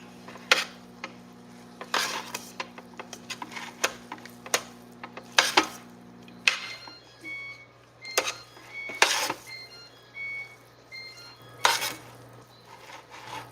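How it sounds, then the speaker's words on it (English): Chicken teriyaki is stirred in a pan, giving irregular close scrapes and metallic clinks of a utensil against the pan over a faint steady hum, with no talking. "Now we're going to mix it up."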